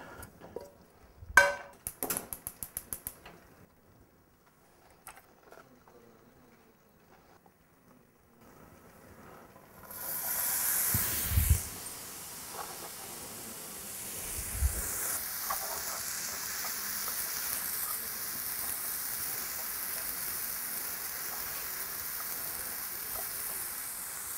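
A turkey neck frying in a pan on the stovetop, first a few sharp clatters and handling sounds, then a steady broadband sizzle that rises after about ten seconds and continues to the end, with a couple of low bumps.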